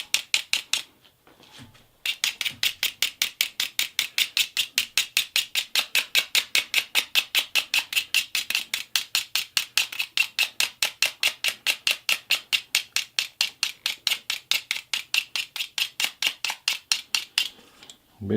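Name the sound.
scraping out a warm golf club hosel bore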